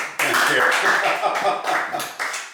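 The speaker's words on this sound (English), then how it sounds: "We'll clap for Phil." Evening meeting audience applauds the featured speaker, a short burst of dense hand claps close by that fades in uneven waves over a couple of seconds.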